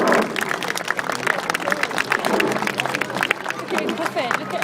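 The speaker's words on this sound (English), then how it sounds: "Give him a round of applause, well done Jack." Outdoor crowd at a bird of prey show in a park gives scattered, moderate applause with claps mixed into chatter and background noise throughout.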